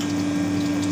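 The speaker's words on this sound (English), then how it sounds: "there's a flow of water coming from our distribution jet" An ice machine's distribution pump runs with a steady hum while water flows from the distribution jet back into the reservoir tank, a constant, close, even sound with no talk.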